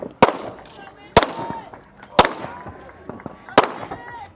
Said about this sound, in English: He just has to finish up with his pistol.